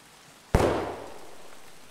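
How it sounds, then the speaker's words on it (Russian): A single gunshot in Escape From Tarkov rings out as one sharp, distant-sounding crack with a long reverberant tail fading into quiet. "Слышишь? Стреляет."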